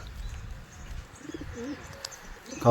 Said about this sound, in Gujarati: જો આવી ગયા બધા કબૂતર